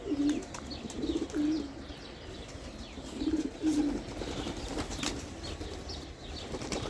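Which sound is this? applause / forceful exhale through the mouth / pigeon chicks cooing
pigeon chicks cooing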